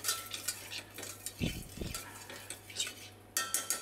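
A spoon stirs toasting rice in a pan, giving light clinks and scrapes against the metal, with a brief sizzle burst as white wine is added to deglaze, close and fairly quiet.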